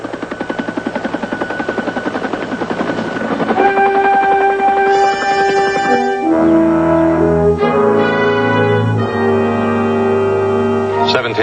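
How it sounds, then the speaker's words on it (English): A Hughes 500 turbine helicopter flies, a loud, rapid chopping rotor thump with a whining turbine tone, later shifting into strong sustained tonal hums as it passes close. "Hughes 500 turbine powered chopper."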